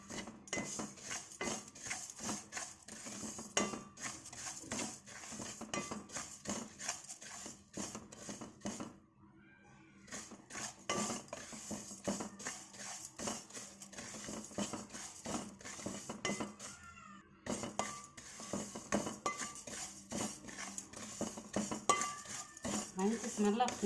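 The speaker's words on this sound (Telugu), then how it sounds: "జీలకర్ర కూడా లో ఫ్లేమ్లో వేయించుకోవాలి" Cumin seeds dry-roasted in a pan over a low flame for kandi podi, with a utensil steadily scraping and clinking against the metal in a continuous close rhythm, briefly pausing twice.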